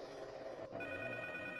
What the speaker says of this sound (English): you'll hear the phone ring, and you'll have to go answer it.